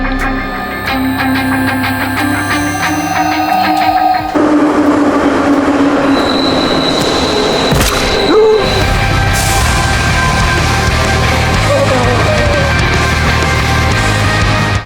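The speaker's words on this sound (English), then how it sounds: "As the train roared into the station," A train roars into a station with a loud, sustained rumble, clattering wheels and a high metallic squeal, no voices over it.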